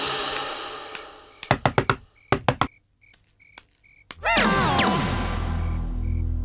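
A hand knocks on a door in two quick bursts of sharp raps separated by short pauses, loud and close, followed by a swelling sweep of sound effects.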